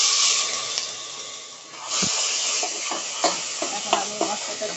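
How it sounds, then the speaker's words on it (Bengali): Ground spice paste frying in oil in a pan for a fish curry, a close hissing sizzle that swells after a pause, with sharp spoon scrapes and taps in the later seconds. "এখন আমি মশলাটাকে সুন্দর করে কষিয়ে নেব।"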